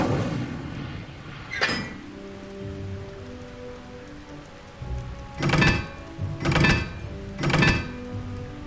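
A fire spell cast in the video game Hogwarts Legacy, heard as three loud, sharp whooshing bursts in quick succession after an earlier single burst, set over a soft ambient music bed.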